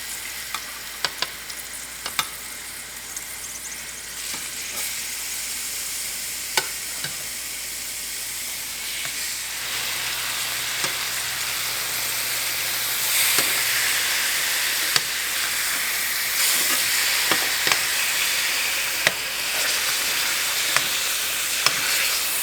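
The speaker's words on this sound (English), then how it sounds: "I have coconut oil in my pan over here, already hot and melted. And I am just gonna throw these face down to get a nice good" Salmon fillets sear face down in hot melted coconut oil in a pan, giving a steady loud sizzle and frying hiss throughout, with occasional sharp pops and crackles.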